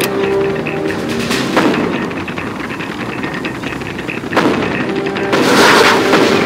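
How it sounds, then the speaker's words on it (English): Missile launcher firing in a Command & Conquer real-time strategy battle between USA and GLA forces, heavy booming launches and blasts recurring every second or two over a rumbling battlefield bed. "Got my missile launcher right here."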